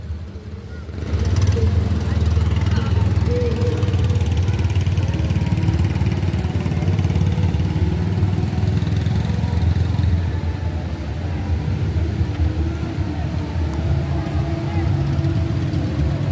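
A steady bangka boat engine hums at mid distance as the boat approaches a river dock at Wawa Dam, Rodriguez, Rizal, easing slightly toward the end, with wind and faint chatter around it.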